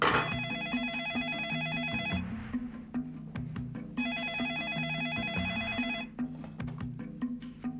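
Telephone ringing in a household scene, two long bursts of bright repeated electronic trills separated by a pause, loud and close, with background clatter and no speech.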